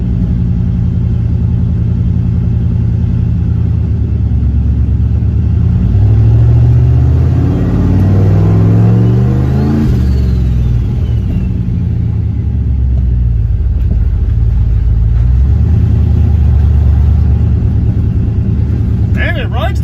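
A turbocharged LS-swapped Dodge Caravan driving along, its engine a loud, continuous low rumble that rises and falls as it revs, with someone talking over it.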